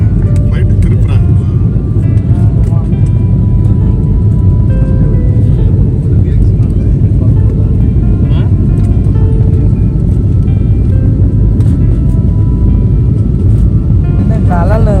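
Loud, steady roar of an airplane cabin in flight, a constant low rumble with faint voices murmuring underneath.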